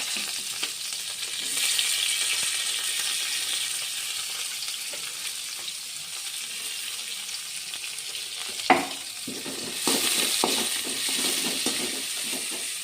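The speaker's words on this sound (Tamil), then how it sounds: "எண்ணெய் ஊற்றி பட்டை, கிராம்பு, பூ, பச்சை மிளகாய், வெங்காயம் எல்லாத்தையும் போட்டு கருவேப்பிலை எல்லாத்தையும் போட்டு நல்லா வதக்கிக்குங்க." Green chili, onion, curry leaves, cinnamon and cloves sautéing in hot oil for an egg curry, a steady soft sizzle with occasional stirring scrapes and a sharp clink of the pan partway through.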